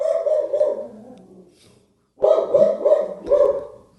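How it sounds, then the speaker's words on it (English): Dogs barking nearby, loud and sharp: a drawn-out bark that fades into a whimper, a short silence, then three quick barks in a row. "the dogs have made their appearance"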